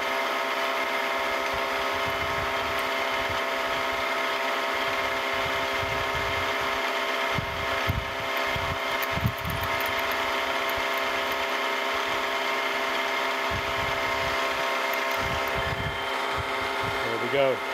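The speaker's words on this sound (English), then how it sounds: "drill it on through" A power drill whines steadily at high pitch while drilling through metal, its tone wavering as it bites, while a person talks intermittently nearby.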